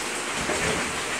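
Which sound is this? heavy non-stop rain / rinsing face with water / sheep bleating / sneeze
heavy non-stop rain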